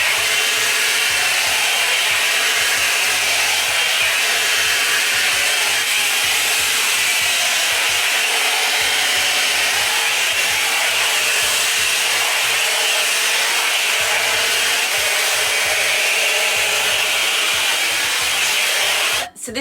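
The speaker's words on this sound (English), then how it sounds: "So I'm going to use my blow dryer." A steady, loud whooshing roar of a hair blow dryer runs continuously, close by, cutting off abruptly at the very end.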